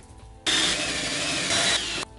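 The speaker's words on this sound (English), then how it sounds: "I get a piece of lumber to drill into." A power drill whirs loudly for about a second and a half as it bores into wood, then cuts off abruptly.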